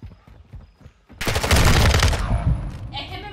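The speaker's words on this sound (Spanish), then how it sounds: "Este me mata de los disparos, Javi." Loud burst of automatic gunfire in the video game DMZ, a dense rapid volley lasting about a second after quieter in-game sounds, with a brief muffled voice beneath.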